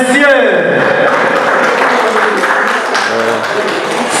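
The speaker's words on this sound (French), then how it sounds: "Applaudissez une fois de plus pour ce couple, mesdames, messieurs." A wedding crowd applauds the couple, dense and loud, with speech and voices mixed in over the clapping throughout.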